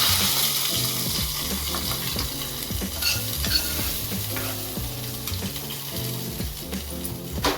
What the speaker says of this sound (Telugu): ఇప్పుడు ఇది పప్పులోకి తాలింపు వేసుకున్నాం